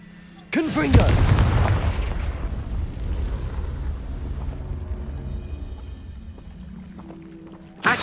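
A fire-spell blast erupts in a Harry Potter video game: a sudden loud boom that rolls into a long, dense rumbling decay lasting several seconds, with a second sharp burst right at the end.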